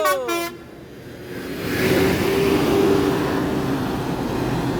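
Bus horns toot at the Palembang bus terminal as a convoy of Sumatra Barat buses arrives together, a quick melodic horn burst at the start followed by longer sustained honking over engine and crowd noise.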